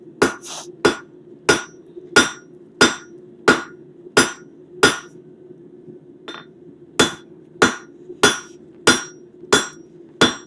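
Steel leaf stem being forged with a hammer on an anvil, sharp ringing blows struck one after another in a steady rhythm, with one brief lighter tap in a short pause, and no talking.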